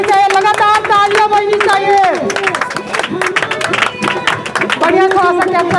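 Students at Winner Defence Academy clap steadily and continuously during a Teacher's Day celebration, the rapid claps running under a loud speaking voice throughout.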